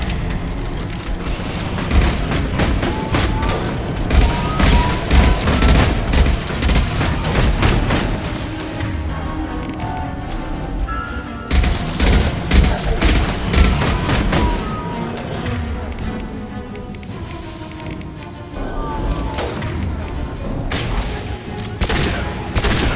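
Gunfire and heavy booms from the Mass Effect 2 video game during a fight aboard the Collector ship come in loud, dense bursts. Rapid volleys alternate with brief lulls, and the barrage runs continuously with no voices.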